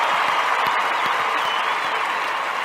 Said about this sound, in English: we're going to give you the round of applause